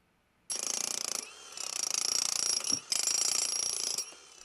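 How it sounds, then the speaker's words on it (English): A jackhammer breaks cement on a construction site, a loud, rapid hammering in three long bursts separated by short pauses, close by. "Daquan Jacobs jackhammers cement on a construction site."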